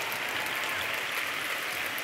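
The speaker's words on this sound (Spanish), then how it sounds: "Podeu aplaudir més, eh? Que no s'us sent." Steady, dense applause from an audience at a university graduation ceremony, a continuous wash of many hands clapping at even loudness throughout, with no distinct voices.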